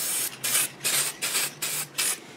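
Aerosol can spraying a coat of chrome paint onto a clear cosplay visor, five or six loud close hissing bursts in a steady rhythm with short gaps, no talking.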